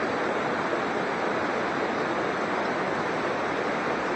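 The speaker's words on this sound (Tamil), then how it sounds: "அடுத்தது இங்கே ஒரு அருவி ஓடிட்டு இருக்குது பாருங்க" Waterfall pouring steadily on a forest mountain trail at Agasthiyar Koodam, a loud, unbroken broadband rush of falling water filling the whole stretch with no voices over it.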